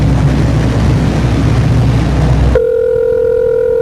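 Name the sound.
phone ringing tone during call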